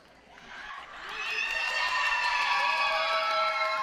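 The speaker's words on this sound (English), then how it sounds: "with that crowd fanfare" Crowd cheering and whooping at a junior roller derby game, the noise swelling after a second into a sustained, fairly distant roar of shouts.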